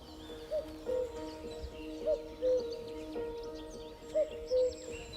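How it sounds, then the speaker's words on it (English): Male cuckoo calling in the wild countryside of Britain and Ireland, a repeated two-note call sounding three times at a fairly even pace, moderately near over a quiet outdoor background with other faint birds. "That is a clear sound of a male cuckoo."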